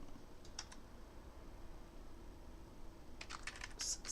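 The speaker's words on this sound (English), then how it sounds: "Let's type in" Search terms typed on a computer keyboard: a few quick key taps early, then a faster burst of clicking near the end, quiet and close over a low room hum.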